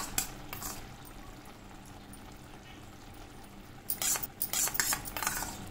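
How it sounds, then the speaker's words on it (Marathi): Homemade cream (malai) being mashed and stirred into a paneer mushroom masala. Soft, quiet scraping and stirring runs throughout, with sharper clinks and scrapes of a spoon against the pan near the end. "मी पण आता थोडीशी साई मॅश करून अशी घालते"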